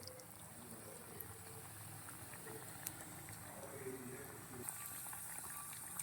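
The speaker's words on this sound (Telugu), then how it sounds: "బాగా కాలుతున్నాయండి. గోల్డెన్ కలర్ వచ్చేంత వరకు అలా కాల్చుకోవాలి." Sweet corn vadas fry in oil, with a faint, steady bubbling hiss and small scattered pops that continue evenly without pause.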